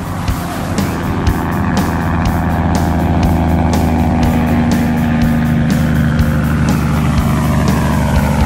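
A loud truck engine idles and revs steadily, with a deep rumbling drone and rhythmic clattering throughout, no talking.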